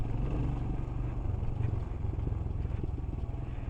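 A Royal Enfield Himalayan motorcycle rides off-road, its engine a continuous close, loud, throbbing rumble with rattling over rough ground and no talk.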